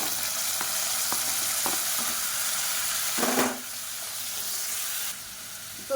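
Onion and tomatoes fry in a pan with a steady, loud sizzle, a few soft clicks of stirring, and a brief burst of sharper hissing as more ingredients hit the hot oil.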